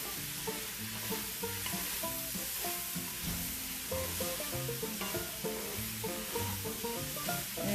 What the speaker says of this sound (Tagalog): Haluin po na natin.